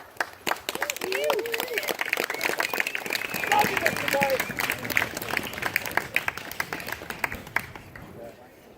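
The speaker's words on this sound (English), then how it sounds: "please give him a warm round of applause" Crowd applause and clapping at a memorial fire camp, with cheers and voices mixed in, building in the middle and trailing off at the end.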